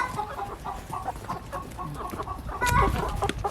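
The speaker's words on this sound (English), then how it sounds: "like this guy right here is a rooster." Chickens and a rooster cluck close by in a crowded farm coop, with busy overlapping clucks and a louder burst from the rooster near the end, and no talking.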